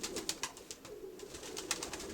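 Pigeons coo softly in a loft, low murmuring calls repeating under a steady background of faint rustling and clicking, fairly quiet and continuous.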